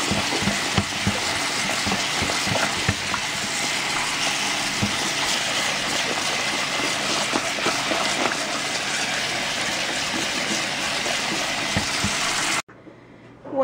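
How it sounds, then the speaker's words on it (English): Steady running water pours over corn and black beans in a strainer, a continuous loud rush and hiss that cuts off abruptly near the end. "Once you've rinsed your black beans and your corn"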